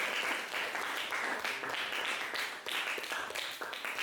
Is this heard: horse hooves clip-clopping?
no